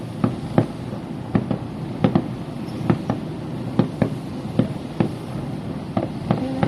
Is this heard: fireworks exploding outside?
yes